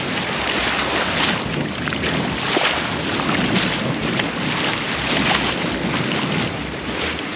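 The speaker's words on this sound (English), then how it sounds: "It's a good day for sailing, I'll tell you what. We got about 16 knots of wind." A sailboat cruises on the Mediterranean Sea in about 16 knots of wind, giving a steady, loud rush of wind and water with heavy wind buffeting on the microphone throughout.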